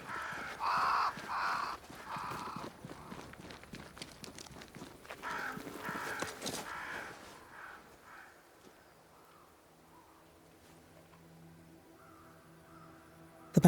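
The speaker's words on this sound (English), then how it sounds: "Crows. They flock to that great tree up there." Crows cawing in the dark fantasy game Banishers: Ghosts of New Eden, several loud harsh calls in the first seconds over soft footsteps, thinning to quieter ambience and a low hum.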